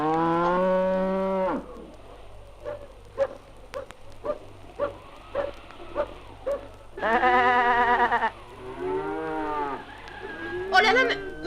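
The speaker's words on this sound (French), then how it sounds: "voilà Misraïm qui nous amène tous les animaux de sa ferme" Loud, drawn-out cattle moos alternate with a rapid run of short clicks or knocks, with more lowing and a brief squeal near the end.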